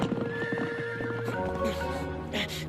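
A horse whinnies loudly with a rising, quavering neigh, while hooves clip-clop in a steady rhythm close by, in a Chinese action anime.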